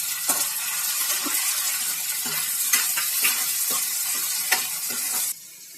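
A cut tomato tossed into frying onions for a Tirunelveli-style okra pachadi, with a loud, steady sizzle and repeated scraping strokes of a ladle in the pan before the hiss drops sharply near the end.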